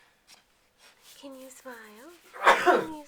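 A single sharp sneeze bursts out near the end, close and loud, right after a short stretch of speech at a Halloween gathering.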